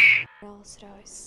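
A man imitates an eagle's cry with his voice: one loud, sharp, high screech opens, then quieter vocal sounds and brief chatter follow.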